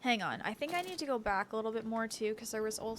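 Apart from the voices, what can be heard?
No distinct noise like a dog, phone or traffic.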